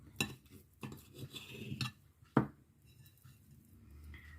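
A knife cutting through cheese-filled minced-meat brizoli on a plate, a few separate scraping and clinking strokes, close and fairly quiet, with one sharp knock near the middle.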